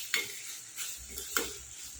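A spoon scrapes and clinks in a pan a few times while macaroni pasta stirs over soft, faint sizzling; quiet and close, no talking.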